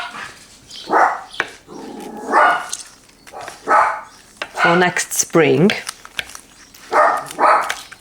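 Dogs bark in repeated short bursts throughout, fairly near and loud, while a person talks over them outdoors at a country home.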